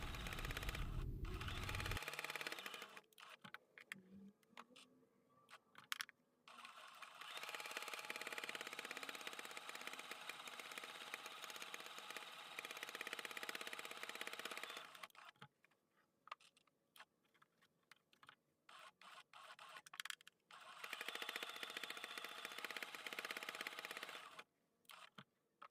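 Sewing machine quilting a fabric project, its rapid stitching running in long bursts separated by short pauses, steady and fairly close with no talking.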